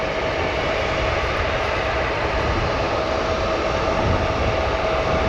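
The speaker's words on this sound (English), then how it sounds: "With that 747 taxiing pop-up and that UPS 767 in the background taxiing" A Boeing 747 airliner taxiing at O'Hare airport gives a steady, loud jet engine roar with a constant whine, unbroken throughout with no talk.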